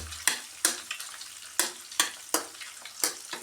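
Food frying in hot oil, with a steady sizzle broken by regular scraping or stirring strokes about every half second, close and clear.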